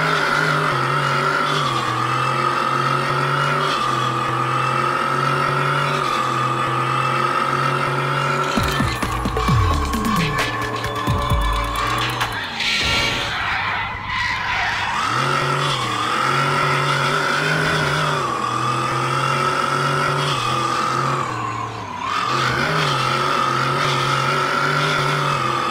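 An old-model Verna car drives in the Car Simulator 2 video game, its engine droning at a steady mid pitch with shifts in revs. A brief stretch of tire squeal and rougher engine noise breaks in partway through before the steady drone resumes.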